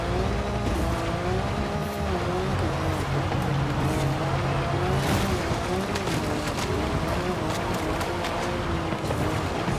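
Race car in Forza Horizon 5 speeding hard with a loud, continuous engine roar whose pitch rises and falls through gear changes, with bursts of tire squeal along the way; no talking over it.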